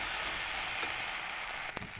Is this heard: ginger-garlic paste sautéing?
yes